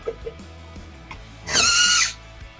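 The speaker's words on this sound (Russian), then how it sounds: "Чтобы открыть у нас открыть шлем, да, нужно прикоснуться к датчику." A motorized Iron Man helmet opens with a short, loud, close whirring buzz lasting about half a second, following faint clicks and a low background hum.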